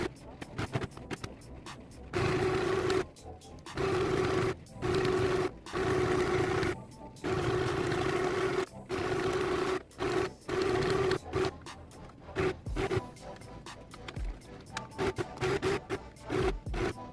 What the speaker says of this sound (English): we are going to sew on the sides over here and the bottom and this side over here